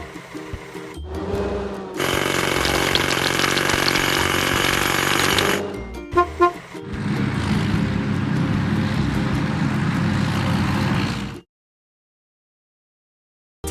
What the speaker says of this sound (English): Let's crack the biggest rocks.